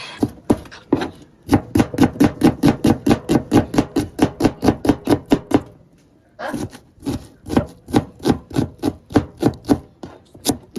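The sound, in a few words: chopping onion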